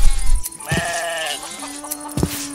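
Minecraft sheep let out several loud, close bleats in quick succession, with little else around them.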